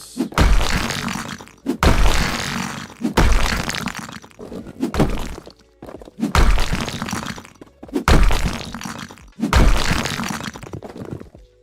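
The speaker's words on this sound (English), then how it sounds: "Let's destroy some walls." Walls smashed apart with a sledgehammer in the House Flipper video game, seven loud, heavy crunching impacts that each trail into crumbling debris, spaced about every one and a half seconds, with no voices.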